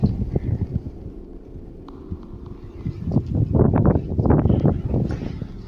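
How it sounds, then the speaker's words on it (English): Wind gusts blow through an abandoned house, a low rumbling buffet on the microphone that swells and surges toward the end, with faint knocking underneath and no talk. "noting that you can hear the wind and see the plants moving outside."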